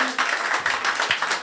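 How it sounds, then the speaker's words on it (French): A church congregation claps together, a steady close patter of many hands lasting just over a second. "On peut applaudir à la gloire de Dieu."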